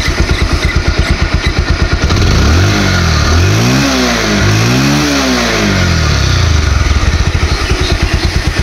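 Close and loud, a 2019 Bajaj Pulsar 150 single-disc motorcycle idles with a pulsing beat, then revs up and down twice in rising-falling swells before settling back to idle.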